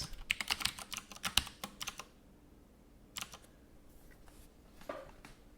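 Fingers tap quickly on a computer keyboard during a programming session, with a dense burst of keystrokes, a pause, then a few scattered clicks, close and fairly quiet.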